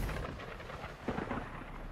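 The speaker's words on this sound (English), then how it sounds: "the way he leaves the thunder sound, that was so good" Low rolling thunder rumbles from an animated Sonic X Shadow Generations scene, a dull boom swelling briefly midway over a faint, rain-like background wash.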